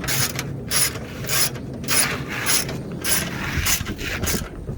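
A 10mm bolt on a Lexus ES330 starter is tightened with rapid ratcheting clicks in about eight short bursts separated by brief pauses, close by and moderately loud, with no speech.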